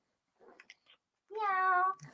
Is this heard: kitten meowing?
yes